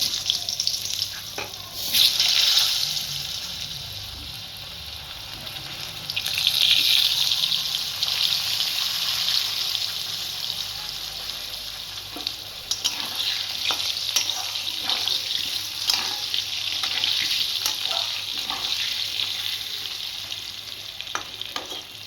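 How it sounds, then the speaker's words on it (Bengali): Potatoes fry in hot oil with a spice tempering, giving a steady, close sizzle with occasional stirring clatter and brief rises in intensity. No voices are heard. "ফোড়নটার মধ্যে আমি আলুগুলো দিয়ে দিলাম"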